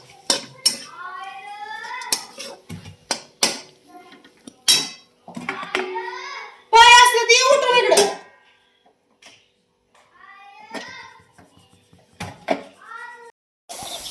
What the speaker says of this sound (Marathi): आता हलवून घेते आणि 2 मिनिटं झाकून ठेवते.